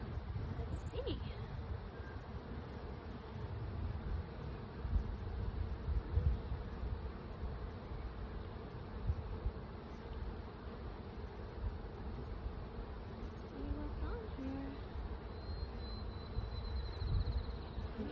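During a spring hive inspection with smoke, honeybees give off a low, steady buzzing drone around the open hive. It is faint and continuous, with light handling noises over it.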